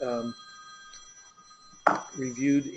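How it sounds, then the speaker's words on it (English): A telephone rings during a Montana State Library Commission meeting, its steady tone sounding faintly in the room between stretches of people talking. "And I have a ringing phone."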